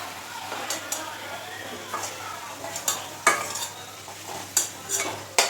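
A utensil scrapes and clinks against a wok in quick irregular strokes while potatoes sizzle steadily frying underneath.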